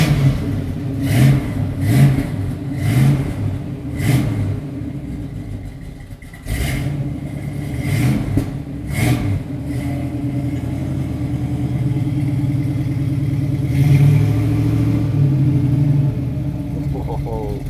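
A first-generation 1967 Pontiac Firebird's engine revs in repeated bursts, then settles into a steady accelerating drone, with people talking over it.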